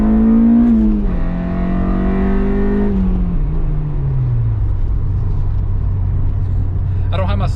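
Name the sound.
car driving off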